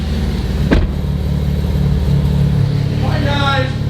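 A Cadillac ATS-V with a ported throttle body idles steadily right after starting, a loud low rumble held close and constant, with a sharp transient early on and voices talking over the engine.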